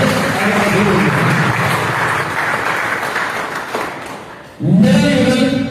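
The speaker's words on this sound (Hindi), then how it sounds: "जोरदार तालियों से उनका स्वागत और अभिनंदन।" Loud, sustained applause from a crowd welcoming a bronze-medal university wrestler at an honoring ceremony, a dense wash of clapping that dips briefly and then swells again near the end.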